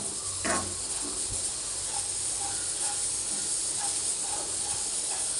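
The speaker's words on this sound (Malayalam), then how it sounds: "നമ്മൾ ഈ നെയ്യിൽ വറുക്കുന്നത് അരി ഒടിഞ്ഞു പോകത്തില്ല കേട്ടോ" Rice frying in ghee in a pan gives a steady, soft hiss throughout, with faint crackles and a few light stirring scrapes close by.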